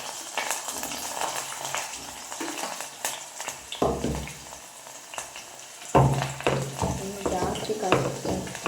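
Chili bajji frying in hot oil in a home kitchen in Germany, a steady crackling sizzle with clattering and stirring of utensils and pan, rising in bursts as pieces go into the oil.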